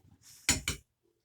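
A metal fork is dropped into a kitchen sink, producing two quick bright clanks close by after a soft rustle, then silence.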